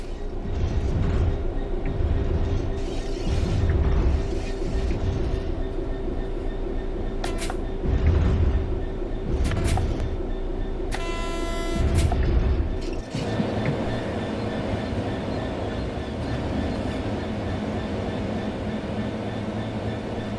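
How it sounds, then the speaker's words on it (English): A diesel train coasting on level track in the Train Sim World 4 video game, heard as a steady, loud rolling rumble with a low engine drone, occasional wheel clicks and a brief high squeal partway through. "The train will then coast on level ground, and the train will only slow down very gradually."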